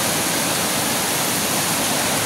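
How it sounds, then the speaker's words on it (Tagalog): Powerful rushing river water roars steadily and loudly, a constant dense wash of sound with nothing else audible. "Grabe lakas ng tubig mga kabingbing oh."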